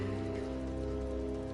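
Steady rain falls in the Final Fantasy 14 game world, an even, continuous patter with a smooth hiss over a low hum, constant throughout with no talking.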